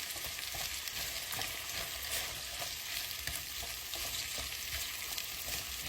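Potatoes cooking in a pan, an even, faint, continuous sizzle with light crackles, no voices.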